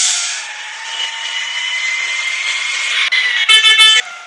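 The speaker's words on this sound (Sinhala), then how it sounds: "හෝන් ටික නම් සුපිරි." A bus horn in a bus driving simulator game blares loud and steady for about three seconds over engine hiss, then gives a few short, sharp toots near the end.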